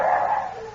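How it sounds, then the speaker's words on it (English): Hounds bark in a short, loud burst, a single drawn-out yelping bay that fades quickly, with no talk over it. "You hear that, Duke? The dogs have got the shadow."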